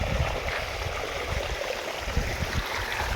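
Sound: irrigation water flowing in field channel

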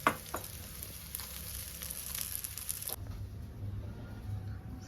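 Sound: ragi talipattu cooking with oil on a pan

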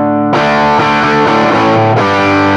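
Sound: Rook Audio Fortune Boost guitar pedal

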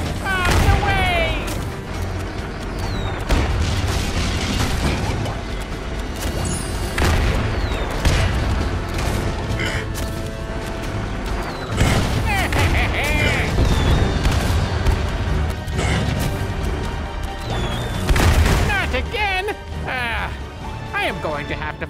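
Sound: cannon shots in video game Skylanders Trap Team

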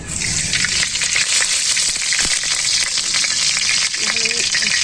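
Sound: oil sizzling in a hot kadai for cooking meat pulao

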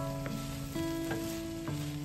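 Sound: cooked rice frying with vegetables in a pan

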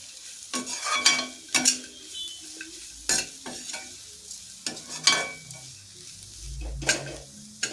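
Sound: stirring coconut rice with ghee in a pan

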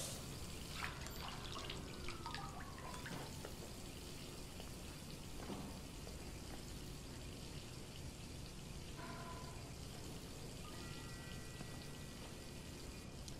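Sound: water running into a bathtub, Detroit: Become Human video game

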